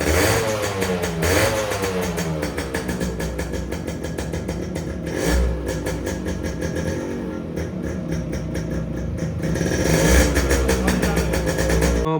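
A restored Yamaha RX100 two-stroke motorcycle engine revs loudly and continuously up close, rising and falling through several throttle blips with no talk.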